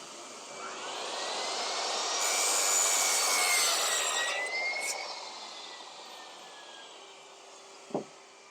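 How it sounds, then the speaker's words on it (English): A handsaw cuts through timber for acoustic panels, a long continuous rasping stroke swelling and fading over several seconds, close, followed by a single faint knock near the end. "you can cut your piece of timber, slide the wood up and cut another one"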